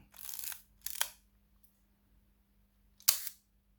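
Olympus 35SP film camera shutter clicks on bulb setting: a quick pair of mechanical snaps, then silence, then another sharp click, close and crisp in a quiet room.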